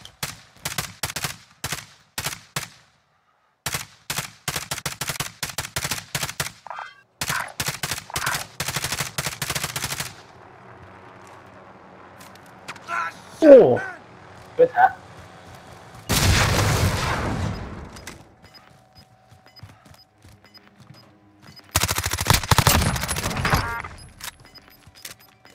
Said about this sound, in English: Guy shooting at us through the back, so be careful.